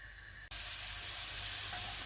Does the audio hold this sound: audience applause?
no